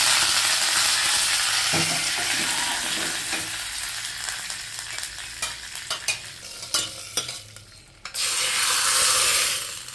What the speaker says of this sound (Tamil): இப்போ தாளிக்கிறேன் பாருங்கள்